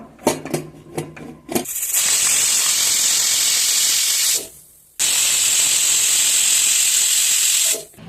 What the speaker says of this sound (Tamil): இந்த ஸ்டேஜில் நமக்கு குக்கரை மூடி ரெண்டு விசில் விட்டுடலாம்